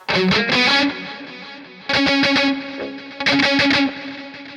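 Electric guitar drenched in delay and reverb plays three bursts of bright, distorted chords and notes with a shimmering chorus, each phrase ringing out and echoing into decaying repeats between strums.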